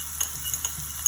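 A sauce for mozzarella meatballs is stirred gently, with several soft, close scrapes over a faint sizzling background.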